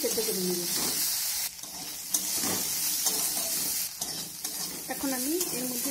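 Potatoes and carrots cooking in a pan are stirred, giving scraping strokes over a steady sizzling hiss, with brief bursts of a voice in the background.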